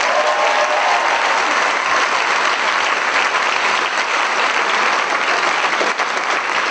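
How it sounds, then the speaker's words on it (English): Sustained audience applause at an a cappella concert, a thick, even wash of clapping from a large crowd that holds steady for the whole stretch. "so if we can just get a round of applause for Danny"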